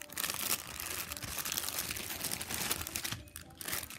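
Plastic packaging of Fimo beads being opened, a continuous, close crinkling and rustling with small crunchy tears, moderately quiet and without talk.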